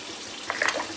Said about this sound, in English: So 1 cup and 2 tablespoons of warm water.